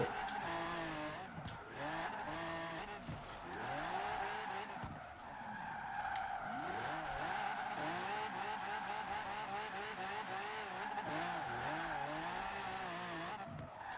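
A car drifts through a corner in the Forza Horizon 4 racing game, tires squealing in long sliding whines over a steady engine drone, with rising and falling pitch sweeps as it brakes and slides, loud and continuous throughout.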